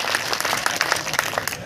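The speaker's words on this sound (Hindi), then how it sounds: "एक बार दोनों हाथ ऊपर उठाकर तालियां बजा करके स्वागत कीजिए।" An audience at a Hindi poetry recital breaks into applause, a brief spell of fairly quiet, distinct claps scattered irregularly across the room.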